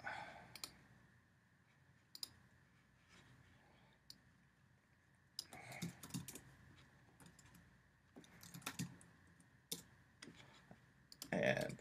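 Keys on a computer keyboard are tapped in scattered, quiet clicks while a password is entered, sparse at first and then clustering into quicker bursts, with faint background noise.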